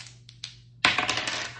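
Dice for a board game tumble and clatter across a hard surface, a couple of light ticks and then a busy rattling roll of quick clicks that settles out, close by with no talking.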